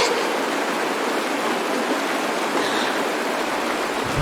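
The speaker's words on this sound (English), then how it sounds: "It's raining!" Steady rain falls in the video game Honkai: Star Rail, a dense even hiss of water that holds at moderate loudness throughout with no voices over it.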